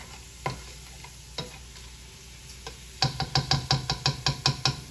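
Onions fry and sizzle in a pan on an electric stove while a utensil stirs them: a few scattered knocks at first, then a quick rhythmic run of about ten scraping clacks over a steady sizzle, close and clear with no talk.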